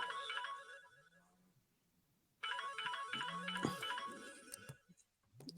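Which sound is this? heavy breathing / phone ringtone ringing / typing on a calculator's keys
phone ringtone ringing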